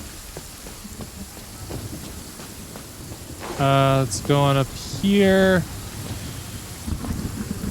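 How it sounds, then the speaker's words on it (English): Steady rain hisses throughout in the video game Genshin Impact, with someone speaking briefly over it partway through. "Oh, now it's raining again."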